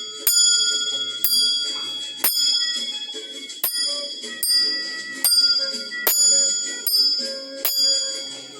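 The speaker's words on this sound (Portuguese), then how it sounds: "de longe ele já escutava o sino da igreja tocando" A church bell rings out in a steady, evenly spaced series of about ten bright, ringing strikes, each decaying before the next, loud and close.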